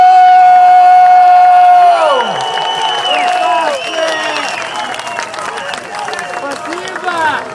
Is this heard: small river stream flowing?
no